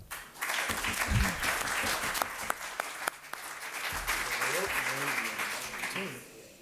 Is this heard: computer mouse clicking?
no